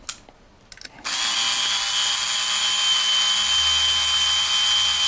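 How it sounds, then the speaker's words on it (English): A power drill whirs steadily at high speed while driving a screw into a Carbine CDL7100 code lock, starting after a second of quiet handling clicks and running continuously, close and loud. "I find this drill very slow."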